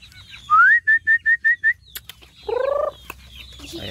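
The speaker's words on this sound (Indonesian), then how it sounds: "Ngurus ayam." Chickens being tended: a quick run of six sharp, high peeps in steady rhythm, then a short, throaty squawk, all close and clear over a quiet background.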